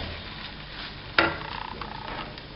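Stuffed bitter gourds fry in a pan with a soft continuous sizzle, a sharp spoon clack near the middle, then light scraping as the spoon stirs, close by.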